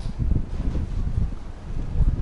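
Strong wind blusters across the microphone in an open spot facing the Eiffel Tower in Paris, a steady low rumbling buffet with gusty swells and no voices.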